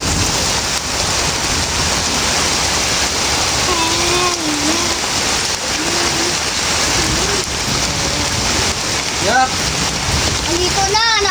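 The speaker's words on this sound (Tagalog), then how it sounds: "Bigla kasing lumakas yung ulan." Heavy rain pours steadily at a fishing spot in Valenzuela City, a loud continuous hiss and patter throughout, with voices talking faintly underneath.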